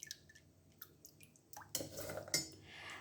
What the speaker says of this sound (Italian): comincio con un mestolo a travasare le bacche dentro il mio torchietto